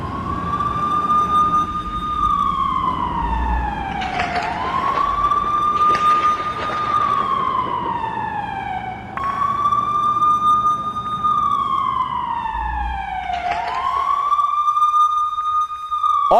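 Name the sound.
air raid siren wailing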